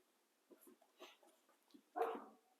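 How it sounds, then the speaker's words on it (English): A dog barks in a neighbouring yard, giving a few faint, distant yips and barks and then one louder bark near the end, against an otherwise quiet background. "Hopefully that dog stops barking."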